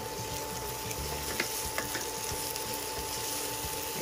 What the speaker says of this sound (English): So all we have to do is just saute them for 30 seconds